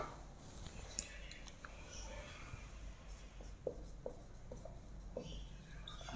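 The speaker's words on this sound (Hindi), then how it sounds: "रुको नीचे से लिखता हूं थोड़ा।" Chalk or marker writing on a board during a commerce class, faint scratchy strokes and occasional taps at a quiet level with no one speaking.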